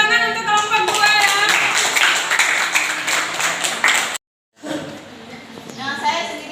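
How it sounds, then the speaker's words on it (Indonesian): A school class bursts into hearty applause for a student group, dense clapping close by for about four seconds before a brief pause, then a few scattered claps under a voice speaking. "Kita tepuk tangan untuk kelompok 2 ya."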